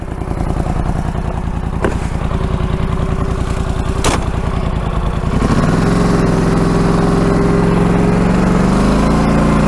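A 2014 Polaris Scrambler 850 ATV engine runs while being ridden, a loud, close, rapid chugging drone that steadies, then rises in pitch and revs higher in the last few seconds, with occasional clicks and no voices.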